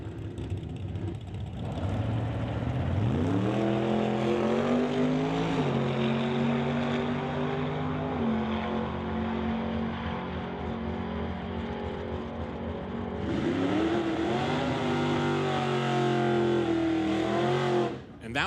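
A drag race run of a 1980 Camaro and the Rad Torque Systems S10 at a Doorwarz event, engines roaring loud and sustained as revs climb, hold and climb again.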